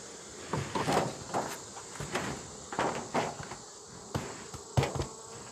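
Honey bees swarm around an open hive during a beekeeping inspection, a steady low insect drone broken by repeated close buzzing passes and light handling knocks.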